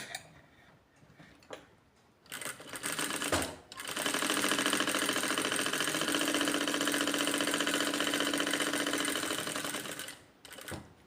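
A sewing machine runs practice stitches on fabric in one steady, fast, even chatter lasting several seconds, with a few quiet clicks before and a short stop and restart near the middle.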